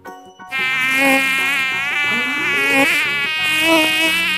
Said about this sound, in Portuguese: Mosca.